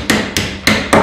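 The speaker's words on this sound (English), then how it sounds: "With a smooth face hammer, just slightly tap them in." Four crisp, evenly spaced taps from a smooth-face hammer drive end caps into the metal rails of a canvas pioneer-style tent, each strike sharp and close with a short ring, no voices.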